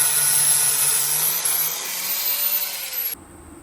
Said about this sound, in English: I'm gonna go ahead and sand the paint off these ones.